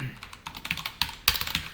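Quick irregular keystrokes clatter on a computer keyboard while code is typed, close and fairly soft, with a few sharper taps toward the end.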